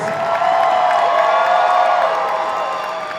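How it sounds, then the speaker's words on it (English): Crowd at the Colossalcon North 2025 cosplay walk-ons applauds and cheers its performers, steady loud clapping with whoops across the whole stretch. "let's get a big round of applause for all of our performers"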